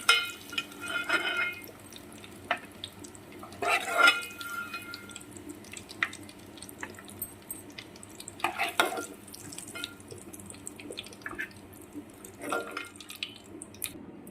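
Boiled eggs frying in oil in a pan give a soft, steady sizzle with scattered crackles and stirring clinks, fairly quiet and close, with no talking.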